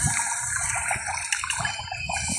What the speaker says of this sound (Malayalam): ഒന്ന് ഇവിടുന്ന് വെള്ളം കുടിക്കാം